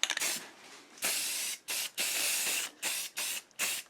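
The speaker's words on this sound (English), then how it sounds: "First, going to be applying rust reformer." Rust reformer sprayed from an aerosol can onto a part from a Mercedes-Benz W126 S-Class fuel pump assembly, heard as a series of about six close, loud hissing bursts of varying length with short pauses between them.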